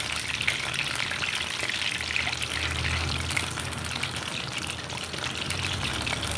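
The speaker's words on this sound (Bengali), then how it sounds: "এখন তেলটা গরম হয়ে গেছে, এর মধ্যে আমি সবগুলো একটা একটা করে দিয়ে ভেজে নিব।" Goja pastries of dough frying in hot oil, a steady, soft bubbling sizzle with a dense crackle like light rain, continuous and fairly faint throughout, with no voices.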